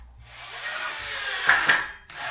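A power driver sinks screws through plasterboard into framing while building an archway, giving a steady whirring buzz that rises and ends in a couple of sharp bursts, close and fairly loud with no talk.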